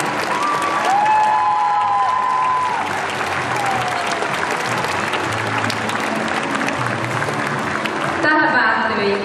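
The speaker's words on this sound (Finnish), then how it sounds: "Suuret aplodit koko näytösväelle." A crowd applauds the cast and volunteers at the close of a figure-skating ice show of Snow White in Helsinki, sustained loud clapping with whistle-like tones and faint cheers over it.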